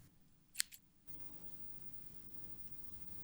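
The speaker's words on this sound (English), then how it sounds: "Snip the excess free." Small scissors give a single quick, crisp snip trimming excess black thread while tying a fishing fly, followed by faint room hiss.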